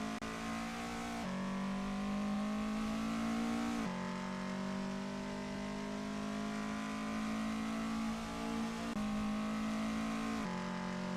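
Race car engine in a sim racing game, a Golf cup series, droning at a high steady pitch under full throttle, with abrupt pitch drops at gear shifts before climbing again, loud and continuous.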